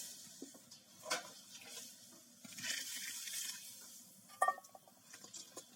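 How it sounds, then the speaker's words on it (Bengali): Water pours into a cooking pan in a few short gushes with a rushing splash, mixed with light clinks of cookware, fairly quiet and close. "দেবো কড়াইতে পানি।"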